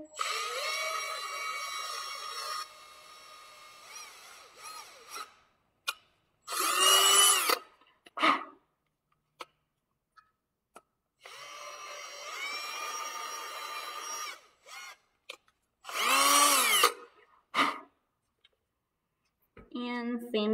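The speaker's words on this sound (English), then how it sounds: "I'm just gonna drill your hole" A power drill whines in two long bursts, each followed by short higher-pitched revving spurts, with pauses of quiet between them; close and loud.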